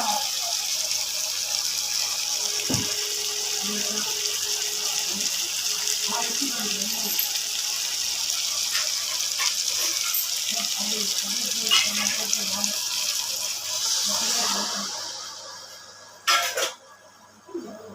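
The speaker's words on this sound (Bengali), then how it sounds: "এবার বন্ধুরা জল দিয়ে দেবো।" Water pours steadily into a pan of chicken gravy for a chicken amani dish, a continuous splashing gush that runs for most of the stretch before tapering off near the end, with a few brief clatters.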